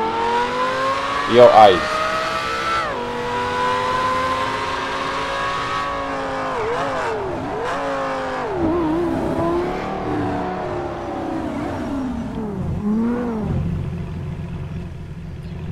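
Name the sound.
Lamborghini car engine revving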